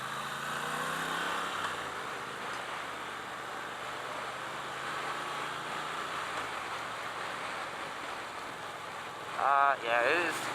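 A 2017 Triumph Thruxton R with its 1200cc engine, a steady rumbling drone while riding, with wind rush and a rider talking over it.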